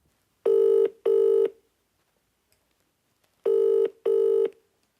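A telephone call to a hotline number rings out in two pairs of steady electronic tones, separated by a long silent gap, clear and close.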